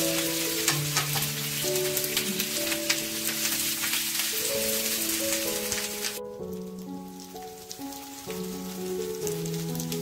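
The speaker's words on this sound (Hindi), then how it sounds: "इसको लाल होने तक उलट पलट के पका देंगे।" Paneer tikka sizzling in oil in a pan, with a steady crackling fry under a continuous music bed and no talking.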